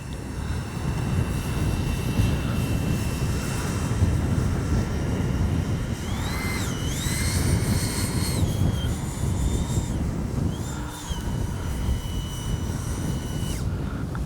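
A Freewing 80mm F-22 radio-controlled electric jet on a runway in strong wind: a steady roaring ducted-fan whine with rising and falling pitch sweeps as the throttle changes, loud and close.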